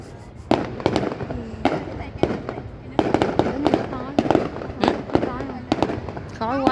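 A fireworks display in Long Khanh city in 2023 bursts in a loud, irregular series of sharp bangs and crackles, some close and some farther, while people talk and exclaim throughout.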